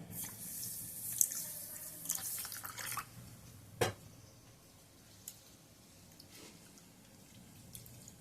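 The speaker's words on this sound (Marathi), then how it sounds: "कटोऱ्यामध्ये मी भगर काढून घेते संपूर्ण तिला छान वॉश करून घ्यायचं" Barnyard millet is rinsed in a bowl of water, with faint trickling and sloshing and a few soft splashes and drips, quiet and close.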